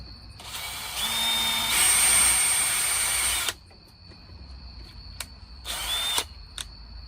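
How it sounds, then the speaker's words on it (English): A power drill drilling a starter hole for a storm door handle whirs for about three seconds, its pitch rising as it bites, then stops; after a short pause it spins again briefly. "we're going to take our first drill bit and we're going to drill a starter hole"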